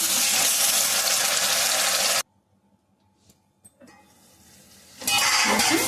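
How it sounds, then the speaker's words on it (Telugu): Masala for fish curry sizzles loudly in a hot pan in a dense, hissing burst, then drops to near silence with a few small knocks before the frying hiss returns strongly. "మసాలా అయితే వేగిపోయింది"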